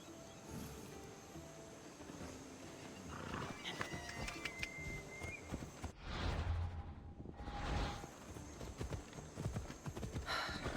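Horse hooves clip-clop at a steady riding pace in Assassin's Creed Odyssey on the island of Naxos, with snorts and ambient wind around them and a brief louder whoosh partway through.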